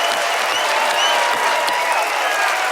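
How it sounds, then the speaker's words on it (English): A studio audience at a magic competition show breaks into loud, sustained applause, dense and even from start to finish with no speech over it. "really warm happy birthday round of applause, everyone"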